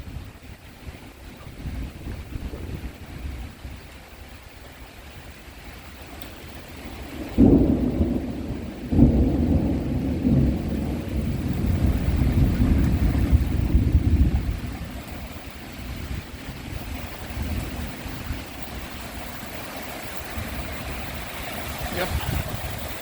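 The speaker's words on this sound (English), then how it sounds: "Yeah, it's raining sideways here." Torrential rain lashing sideways against a house in Roscoe during a thunderstorm, with a loud rumble of thunder rolling in midway over constant rain hiss and wind buffeting the microphone.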